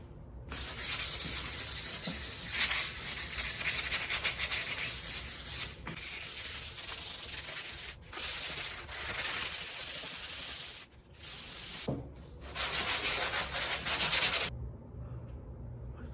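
Sandpaper rubs paint off a Corvette C3 hood in long scratchy bursts, broken by brief pauses, close and fairly loud.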